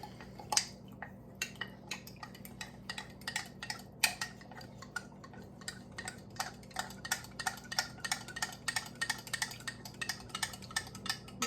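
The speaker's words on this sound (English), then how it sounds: "Stir this together." A spoon clinks and scrapes against the pot while ham and potato soup is stirred, giving a steady string of small, close metallic taps over a low background hum.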